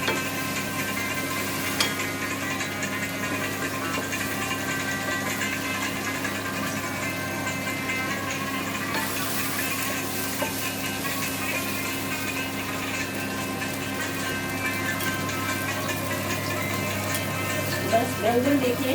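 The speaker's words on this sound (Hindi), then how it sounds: "बस बैंगन देखिए गोल्डन फ्राई हो रहे हैं" Slices of eggplant fry in a pan on a gas stove with a steady, even sizzle and crackle that holds throughout at moderate volume, with no other sound over it.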